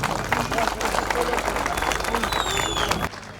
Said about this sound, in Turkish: Kocaman bir alkış istiyorum